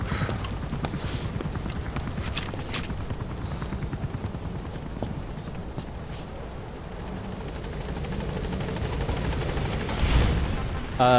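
Helicopter in the video game Metal Gear Solid V, a steady rotor drone running through the whole scene, with clopping hoofbeats and a brief louder swell near the end.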